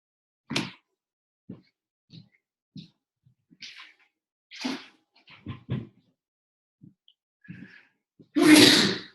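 Several sneezes and sniffs burst out close by amid quiet breaths and small thumps, ending with one loud, forceful sneeze.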